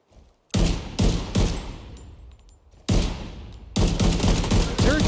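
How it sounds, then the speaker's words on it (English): Gunfire in the shooter game The Division 2 comes as loud, close bursts of rapid shots, one volley after another with short pauses, sometimes overlapping and with almost no talk. "I think I'm going to shoot that one guy that's not paying attention to us."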